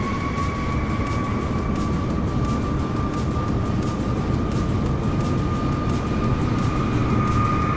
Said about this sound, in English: Here we go, like Kangaroo taking off here in the A350.